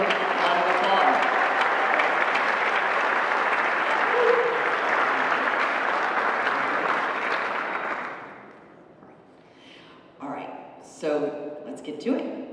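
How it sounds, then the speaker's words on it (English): Sustained audience applause at a sustainable business awards ceremony, dense and steady for about eight seconds, then dying away into scattered claps with a voice starting to speak near the end. "Let's give them a round of applause."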